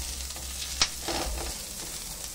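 Onion, garlic and chili sizzle in hot oil as the base for ginataang papaya, with a soft, steady frying hiss. A sharp utensil clink comes near the start, followed by a few light stirring scrapes.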